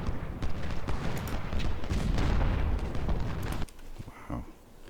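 Cannon and battle fire booms in the Civil War strategy game Ultimate General: Civil War, heavy rumbling blasts that cut off suddenly, followed by a few fainter distant thuds.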